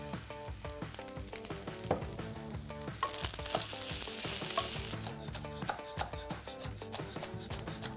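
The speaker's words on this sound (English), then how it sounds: "I'm gonna add in actually a little more oil so that it can actually fry, hence the name, fried rice." Rice fries in oil in a pan, a steady close sizzle with stirring and clattering against the pan, under background music.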